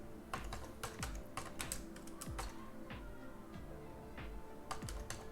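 Steady typing of code on a computer keyboard, quick uneven runs of soft clicking keystrokes close by and fairly quiet, with no voice over it.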